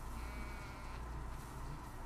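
Many sheep bleat inside a barn in The Last of Us Part II, a dense, continuous chorus of overlapping bleats filling the space at steady loudness with no talk.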